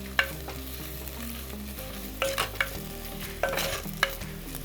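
Baby clams sautéing in coconut oil for a Kerala-style dry roast, a steady low sizzle in the pan with several sharp stirring scrapes and clinks of a spoon.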